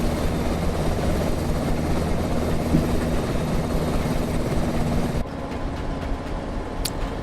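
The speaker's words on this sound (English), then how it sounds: "145's the new one. Brand new helicopter from Airbus." An Airbus H145 helicopter in Microsoft Flight Simulator 2024 drones steadily with a constant rotor and engine hum, loud and continuous, shifting slightly in tone near the end.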